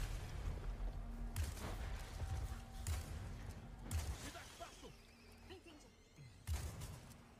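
Repeated booming gunfire bursts from the video game Resident Evil 4 Remake, several loud thuds spread irregularly across the stretch over a steady background rumble.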